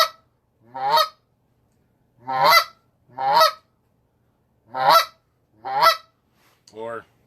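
A Notorious B.I.G. Half-Blood goose call with thin shaved reeds, played over a phone: six loud, sharp honks in an uneven rhythm with clear gaps of silence, the last one softer.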